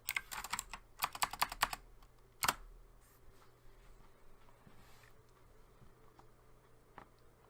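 A computer keyboard is typed on while a file name is entered: a quick close burst of key clicks, a second run, one sharp tap, then a few sparse faint clicks in a quiet room.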